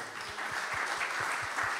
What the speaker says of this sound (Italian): Chiedo anche un applauso per Gerardo,